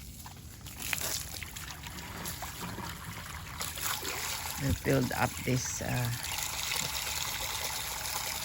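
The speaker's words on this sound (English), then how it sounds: "And then now Mike will put the water. We'll pour water." Water pours into an outdoor two-tier bird-bath fountain as a continuous splashing trickle with a few louder gushes, while someone speaks over it.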